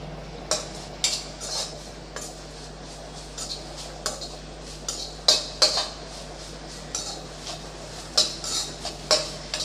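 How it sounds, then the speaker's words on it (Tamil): Coconut dry-roasting in a kadai while a metal spatula stirs it, sharp scraping clinks recurring every second or so over a soft, steady background hum. "ஒரு நிமிஷம் மட்டும் வறுத்தா போதும் இது வந்து சும்மா வாசனை வரணும் அவ்வளவுதான்"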